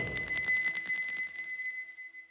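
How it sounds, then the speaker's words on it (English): A small silvery bell dangling from a velvet ribbon rings with rapid bright jingles, then a clear high tone lingers and fades to silence. "a bell."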